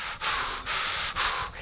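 A man imitates heavy, enraged breathing, three long, loud rasping breaths in quick succession, close to the mic.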